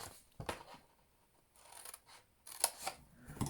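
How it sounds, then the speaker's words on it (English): Scissors cutting paper card along score lines while making a gift bag: several short, quiet snipping cuts in irregular bursts, close and otherwise quiet. "So I'm going to cut up each of these score lines just up to that first score line there."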